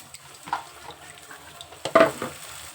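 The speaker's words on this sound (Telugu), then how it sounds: "ఇప్పుడు చికెన్ అయితే వేసేస్తున్నానండి." Chicken pieces going into a hot pan for a broad bean chicken curry, giving a low steady sizzle with a few sharper clatters and stirring scrapes near the end.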